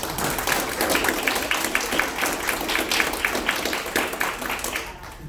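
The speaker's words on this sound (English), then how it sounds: "I hope you give her a warm welcome and a good round of applause" An audience at a speaking event gives a warm round of applause to welcome a speaker, a dense, steady wash of many clapping hands lasting several seconds before fading.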